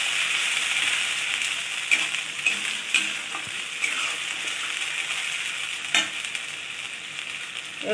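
Onions fry in a pan for a chicken stomach and liver kosha, giving a steady, close sizzle with occasional scraping knocks from stirring.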